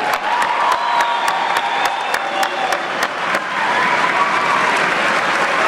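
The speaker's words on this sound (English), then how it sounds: "Let's give our graduates another round of applause." Sustained applause from a large audience honoring new graduates at a Texas A&M University–Kingsville commencement ceremony, dense steady clapping with a few sharper claps standing out, continuing at an even level throughout with no talking.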